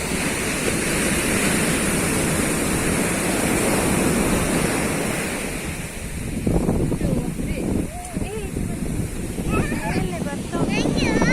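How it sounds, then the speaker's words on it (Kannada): Rough surf crashes loudly at Kanvatheertha beach in a constant heavy roar, which eases somewhat halfway through as people begin talking and calling out nearby. "ಸಮುದ್ರ ಬಾರಿ ಜೋರಾಗಿ ಉಂಟು ಇವತ್ತು"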